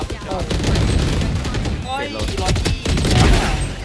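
Dense bursts of gunfire from the video game Valorant crackle close and loud in rapid, overlapping volleys, with a voice talking excitedly underneath.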